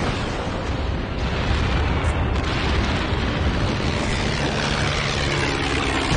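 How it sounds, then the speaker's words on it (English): Bombing-run explosions in Captain America: Super Soldier, a continuous heavy roaring rumble of blasts and debris, loud and dense from start to finish with no pauses. "Bombing run incoming!"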